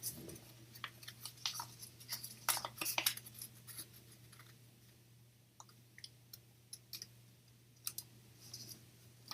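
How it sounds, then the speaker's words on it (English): Paper being opened and folded into an origami heart makes soft, irregular clicks and crinkles, close but faint, with a quiet steady hum behind them. "open up the paper and take the bottom corner and fold it to the middle."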